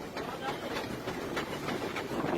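The Fairy Queen steam locomotive rolls along the rails at about 40 km/h with a steady rumbling clatter and rhythmic bursts of noise, heard from on board the engine, continuous and fairly loud.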